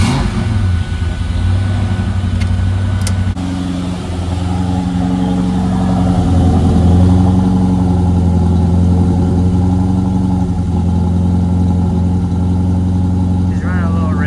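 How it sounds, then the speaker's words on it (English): Ford SVT Cobra idling with a steady low exhaust drone, running slightly rich with a faint hesitation, loud and close, with a brief shift in tone early on. "Now I couldn't let you go without getting an exhaust clip"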